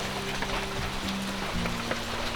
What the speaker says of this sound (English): it's raining. Raining really hard